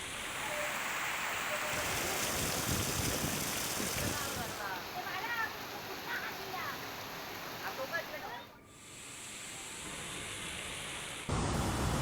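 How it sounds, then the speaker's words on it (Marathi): Someshwar waterfall on the Godavari, swollen after heavy monsoon rain, pours in white torrents with a steady broadband roar. A voice narrates over it, and the roar dips briefly near the end before returning. "पांढराशुभ्र शुभ्र पाणी आणि या पाण्याचे मोठमोठे लोंढे सोमेश्वर धबधब्यातून वाहताना दिसत आहेत"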